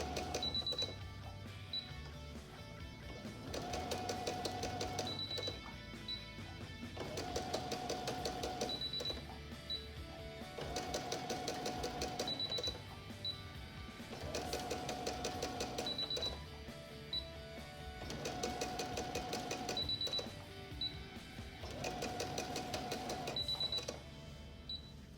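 A home sewing machine stitches a beginner quilt block with its bobbin thread running low, whirring in steady bursts of roughly two seconds separated by short pauses, close and moderately loud throughout.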